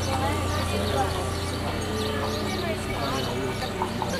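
Hooves of a horse pulling a carriage clop faintly along a street on the Costa del Sol, partly masked by a steady outdoor background hum.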